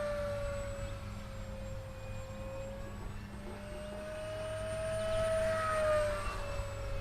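E-Flite RV-7 1.1 m RC airplane running at full throttle on a 4S battery, a steady high electric motor whine that holds a sustained pitch and swells slightly louder toward the end, with no talking.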